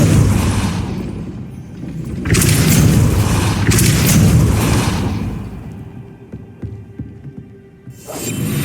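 Spellcasting in Hogwarts Legacy, with the Depulso force spell going off as deep booming, throbbing blasts, loud and heavy, in two long rumbling bursts followed by a quieter hum and another hit starting near the end.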